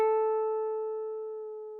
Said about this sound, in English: So the dry guitar recording by itself sounds like this.